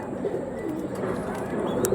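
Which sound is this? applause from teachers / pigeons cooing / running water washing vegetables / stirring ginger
pigeons cooing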